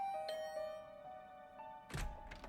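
A two-tone doorbell chime in a video game (The Hundred Line -Last Defense Academy-) rings out, followed moments later by another bright chime burst, over a steady electronic hum.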